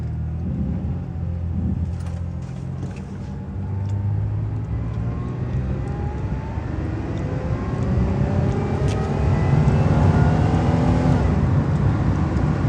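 A Pontiac Bonneville engine revs hard and holds at high revs in a bid for wheel spin, a loud, close, rising mechanical roar that swells toward the end with no talk over it.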